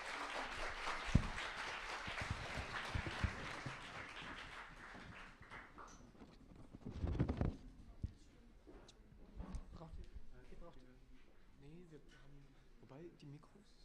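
An audience at the China Time Weekend 2022 event applauds a band. Dense clapping fills the first several seconds, then thins and fades while people talk and stage noises follow.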